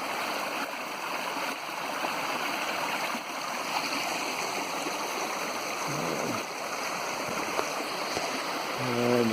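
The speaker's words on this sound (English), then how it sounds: "main part of the stream is pretty muddy" A muddy stream flowing by a road ditch and culvert, with a steady broadband rush and faint gurgling, fairly quiet and continuous, no talking.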